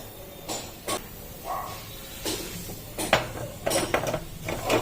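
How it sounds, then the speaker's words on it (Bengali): Oil is rubbed over an earthen clay cooking pot, producing intermittent short scrapes, rubs and light clatters of the pot being handled, spread unevenly over a few seconds. "অল্প পরিমাণ তেল দিয়ে ওই তেলটি হাঁড়িটির গোটা গায়ে বুলিয়ে নেব"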